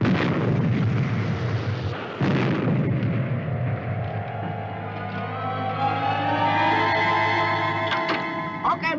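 Weapons fire and a heavy explosion from the Supercar puppet show, a loud booming blast that rumbles on and gives way to a rising, whining engine roar.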